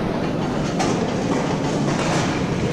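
A metro train runs along the track, a steady close rumble with rhythmic wheel clatter and continuous interior noise.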